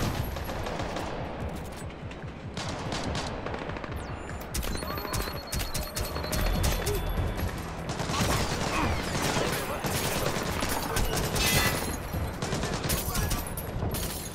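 Rapid bursts of video game gunfire from Splinter Cell: Blacklist crackle almost nonstop, layered shots and rattling volleys filling the whole stretch with dense, loud combat noise.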